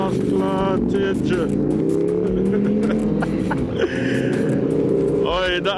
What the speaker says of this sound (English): That's a V-twin.